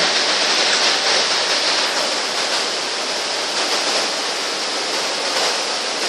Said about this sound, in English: And we're coming into our scenic waterfall section.